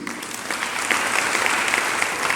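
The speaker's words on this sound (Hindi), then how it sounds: "ताली क्यों बजा दी?" An audience at a spiritual discourse claps in steady, dense applause, fairly close and even throughout, with no talk over it.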